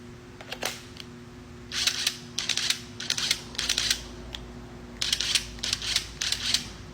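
A Gearman battery-powered impact wrench gets repeated trigger pulls, producing short mechanical whirring bursts in irregular clusters with a faint background hum and no talking.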